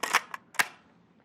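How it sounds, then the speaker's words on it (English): A few sharp mechanical clicks from pressing the button of an old cassette tape player, close and fairly quiet, with two quick snaps followed by silence. "you actually got to press it and it clicks in to know it's working"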